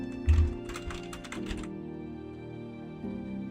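Computer keyboard typing at close range, a short burst of quick keystrokes followed by a few scattered taps with a steady hum underneath.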